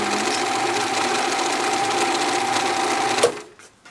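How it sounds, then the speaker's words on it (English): A small domestic overlock serger stitches along a waistband edge in a fast, even mechanical whir up close, running steadily for a few seconds before stopping abruptly. "my little overlock serger machine is just of the domestic variety"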